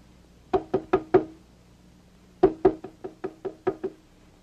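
Knocking on a door: a quick burst of four raps, a pause, then a longer run of about seven knocks, clear and close.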